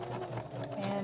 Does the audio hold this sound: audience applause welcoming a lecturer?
no